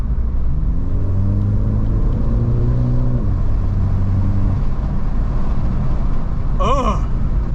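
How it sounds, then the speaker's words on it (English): A turbocharged F56 Mini Cooper S engine revs up and down in rising, falling sweeps with a whooshing turbo hiss, ending in a sharp chirping flutter as the throttle lifts. "the turbo noises on this car are unreal"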